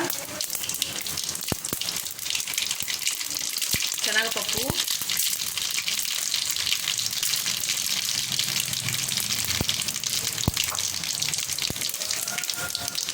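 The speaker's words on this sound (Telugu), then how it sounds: "ఆయిల్ హీట్ ఎక్కింది ఇప్పుడు మనం దాంట్లో ఆవాలు" Mustard seeds and cumin sizzle in hot oil for ivy gourd fried rice, a loud, continuous crackling hiss with a few sharp pops, heard close up with faint talk in the background.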